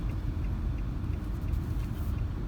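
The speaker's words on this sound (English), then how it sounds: "First car ride home." Steady low road rumble from inside a car on a drive home through the Japanese countryside, carrying a new dog, continuous and even with no talk.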